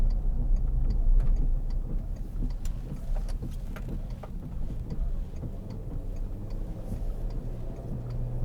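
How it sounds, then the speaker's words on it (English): Steady low engine drone and road rumble from a 2003 Volkswagen Touareg 3.2 V6 Sport cruising, heard from inside the cabin with faint ticking clicks scattered through. "The engine sounds great."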